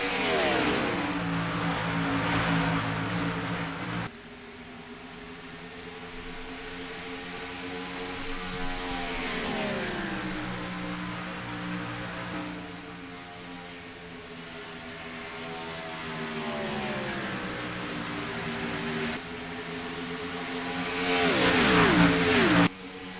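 Stock cars racing at Homestead-Miami in a video game, engines droning loud and steady with rising and falling pitch as cars run single file, a brief dip then swelling roar near the end.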